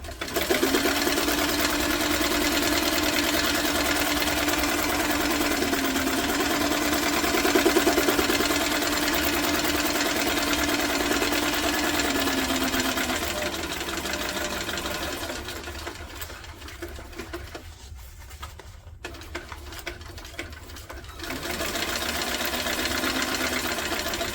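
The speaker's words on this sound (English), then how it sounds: "And now I'm just going to do some random stitching." A sewing machine runs in long continuous bursts, doing random decorative stitching across a tote bag, steady and close, easing off briefly near the end before resuming.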